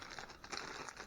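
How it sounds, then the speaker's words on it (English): A thin plastic bag from inside a mailing envelope crinkles and rustles close up as it is handled during an unboxing of a Mirabox HSV321, quiet and continuous with no talk. "it was in another just plastic bag inside of the envelope"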